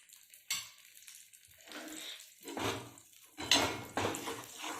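Wheat flour roasting in ghee in a pan for sukhadi, with a spatula giving a few close, distinct scraping and stirring strokes against the pan between quieter pauses.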